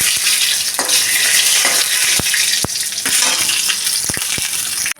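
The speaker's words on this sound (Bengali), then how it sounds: "শুকনো লঙ্কাটা ভাজবো একটু লবণ দিয়ে দেবো" Dried red chillies frying with salt in a pan, a loud dense crackling sizzle throughout with sharp pops and occasional utensil taps, ending abruptly.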